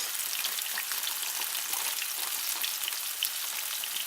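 Okra pieces frying in hot oil, a steady dense crackle and sizzle close by, continuous and evenly loud without any voices.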